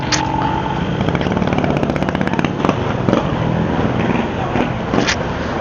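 Honda Click scooters pull off on a long group ride in the Philippines, a steady loud engine drone with buzzy revving and passing motorbike noise, close by, with people talking over it.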